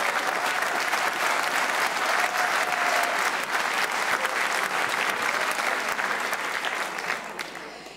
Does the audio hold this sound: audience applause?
yes